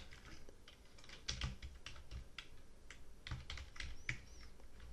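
Keys tapping on a computer keyboard while an email address is typed in during software setup, a close, quiet run of irregular clicks in short bursts with no voices.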